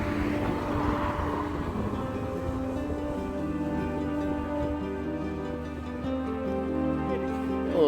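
A DJI Mini 2 drone flies outdoors with a steady, loud, close whine of layered tones that holds throughout without a break.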